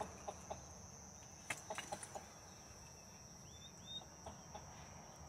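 A loose hen clucks in short, scattered clicks and soft calls at dusk on a farm, faint and somewhat distant over a steady insect drone.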